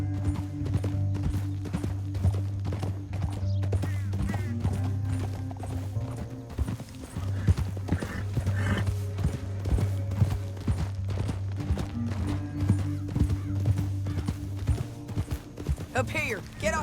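Horse hooves clip-clop steadily in Red Dead Redemption 2, a continuous trotting rhythm under a low engine-like drone with occasional gunfire-like cracks and spoken dialogue over it.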